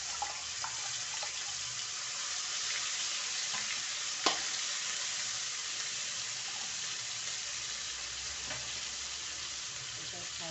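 Onion and garlic paste sizzles steadily in a hot pan for a drumstick curry, a continuous close frying hiss with a few small clicks and one sharp tap partway through.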